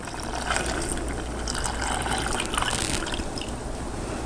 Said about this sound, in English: I have 4 cups of milk that I'm going to pour in